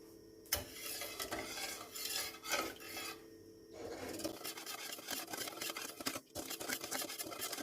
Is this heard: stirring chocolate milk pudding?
yes